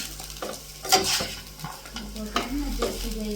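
Anchovy (neththoli) fry being stirred in a hot pan, close sizzling under a few quick scraping strokes and clinks of the spatula, with a louder burst of scraping about a second in.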